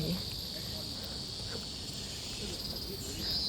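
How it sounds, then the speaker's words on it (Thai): Steady high insect chirring, likely crickets, fills the background outdoors, with faint rustling and low noise beneath; no talking. "เสียงจิ้งหรีด"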